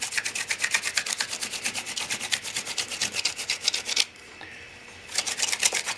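A Shark drill bit grinds through material in a fast, steady rasping rhythm, cutting out for about a second before resuming just as loud and close.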